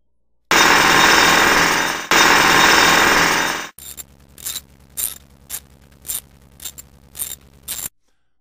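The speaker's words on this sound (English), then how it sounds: "two stormtroopers were repairing the elevator" Mechanical elevator repair work by two stormtroopers in a Death Star maintenance room, animated Lego short: a loud continuous grinding machine whir, a brief break, then a series of sharp clanking, ratcheting bursts in an irregular rhythm.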